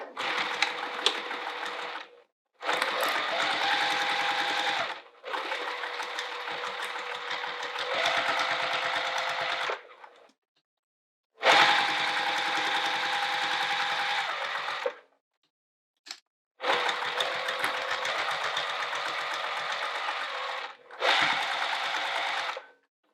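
An electric sewing machine stitching a small fabric wallet in several long, steady whirring runs, separated by brief silent pauses, close and fairly loud.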